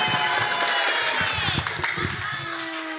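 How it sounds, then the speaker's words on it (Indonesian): Children clap in a busy gathering, irregular scattered claps over crowd chatter and movement, fading as the applause dies down. "Tepuk tangannya dong"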